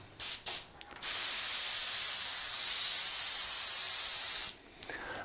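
Cheap airbrush spray gun spraying with the needle at full open travel, a steady loud hiss lasting several seconds after a few short test bursts.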